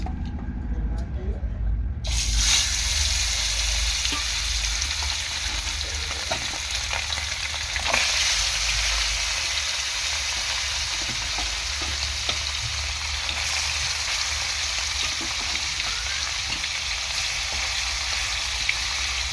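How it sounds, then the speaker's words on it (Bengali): Small bele fish go into hot oil in a pan, setting off a sudden loud sizzle that then runs on as a steady, close crackle with some stirring and occasional clatter. "অল্প অল্প করে মাছ দিয়ে ভালো করে ভেজে নেব।"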